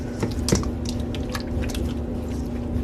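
Bare hands mix fish with squeezed lemon juice, making close, wet squishing and squelching with a few sharper slaps in a steady, fairly loud run and no talking.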